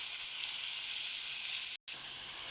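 Tomato paste, garlic and ginger sizzle in hot oil with a steady, bright hiss that runs nearly continuously, close and even, broken only by a brief dropout near the end.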